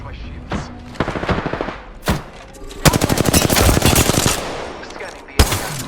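Gunfire in the video game Apex Legends, loud bursts of rapid automatic fire interspersed with single heavy shots and thumps, close and dense across the moment.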